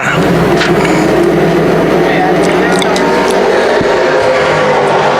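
Race cars accelerate on a speedway oval as the field restarts under green, a loud continuous engine roar with commentary running over it.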